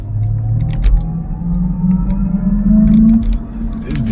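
Spaceship-like selectable 'cyber jump' sound effect from an electric car, a rising synthetic tone sweeping upward over a low cabin rumble, steady and close for several seconds.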